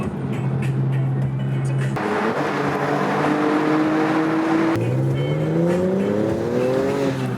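BMW E36 with an SMG automated manual gearbox driving, its engine note rising steadily through a gear, dropping at a shift, then climbing again, loud and continuous from inside the car.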